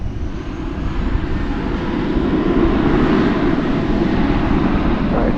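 An American Airlines Airbus A321 takes off from DFW Airport at night, producing a loud, continuous broadband jet roar that swells slightly and holds steady throughout.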